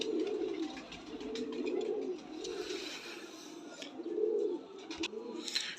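Pigeons of a long-feathered, closed-tail fancy breed coo in low repeated bursts, several soft rounded calls overlapping in a steady rhythm, fairly close, with faint outdoor hiss and occasional chirps behind them.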